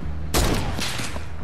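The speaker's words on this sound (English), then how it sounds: "Sometimes my SMG can do more damage than it usually does." SMG gunfire in Fortnite, a sudden loud burst of rapid shots that starts abruptly and rattles on for about a second before trailing off.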